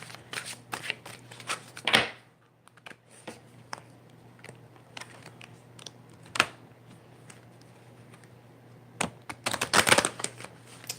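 Playing cards are shuffled close by in bursts of rapid riffling and flicking, with quieter taps and handling sounds between them.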